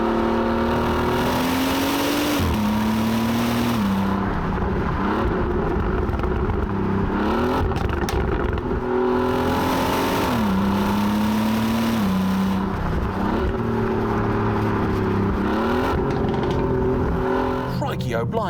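A 2017 Bentley Continental GT Supersports with a 710 hp engine revs hard through low gears. Its exhaust note climbs in several loud, repeated surges with brief dips between gear changes. Someone talks over it now and then.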